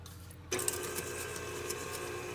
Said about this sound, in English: I have a KitchenAid, so I really like using the KitchenAid.